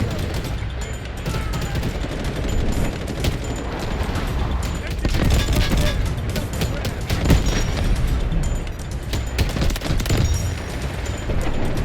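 Dense bursts of gunfire and explosions in the video game Delta Force, loud and continuous, with voices talking over the rapid shots.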